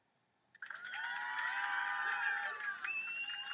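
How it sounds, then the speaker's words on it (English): A crowd of spectators in the video game One Thousand Lies bursts into loud cheering and shouting after a quiet pause, a sustained dense roar of many voices with whoops rising above it. "You can only hear them cheer her name."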